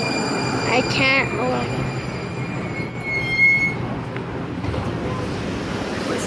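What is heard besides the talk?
train arriving at a station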